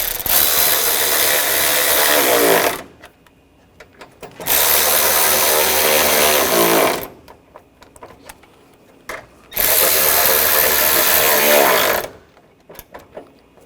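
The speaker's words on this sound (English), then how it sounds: "And we'll tighten these down." Power tool driving bumper bracket bolts on a 2004-2008 Ford F-150, three loud sustained whirring bursts of about two and a half seconds each, separated by short pauses with faint clicks and handling noise.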